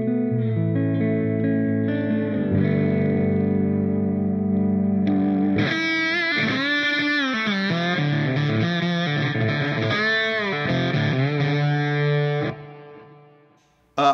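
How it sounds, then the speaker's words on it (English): Lap steel guitar played through an amplifier with distortion and effects: a long sustained chord, then sliding, wavering notes that bend and glide, ending in a fading ring-out. "I really love this guitar. It sounds phenomenal."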